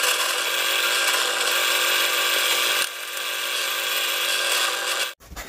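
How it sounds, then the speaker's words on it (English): Power drill boring an 8mm hole into softwood for a dressing table stool: a loud, steady whirring grind that drops slightly in pitch partway through, then stops abruptly, with no voices. "I'm going to make an 8mm hole because it's the only drill bit I have"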